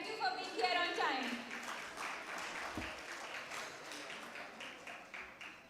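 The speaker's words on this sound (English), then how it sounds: "So a big round of applause for all of you." An audience at a charity event on visual challenges and child education gives a round of applause, scattered clapping that rises after a voice speaks at the start and continues softly, moderately distant.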